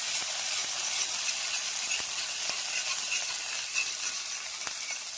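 Ginger-chili paste sizzles in a pan with a steady, close hiss broken by occasional light ticks and scrapes as it is stirred, with no voices.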